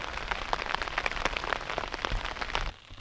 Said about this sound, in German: Der Regen hat auch wieder angefangen.